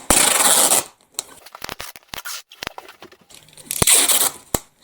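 Adhesive tape pulled and torn while a parcel is packed, with loud rasping strips of tape at the start and again near the end, separated by scattered crinkles, taps and handling noises close up.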